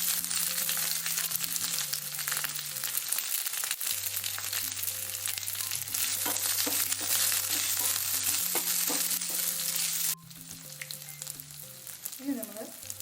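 Green chilies fry in hot oil for a Kerala moru curry (buttermilk curry with panikoorkka leaves), giving a steady, close, loud sizzle throughout with occasional metallic clinks of a utensil against the pan and no talking.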